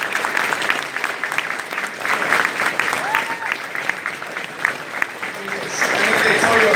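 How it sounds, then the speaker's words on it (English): Audience applause at a speaking event in Adelaide, sustained dense clapping from a sizeable crowd with voices and a few shouts mixed in, holding steady throughout. "Can we have one more round of applause for Lawrence Sutton"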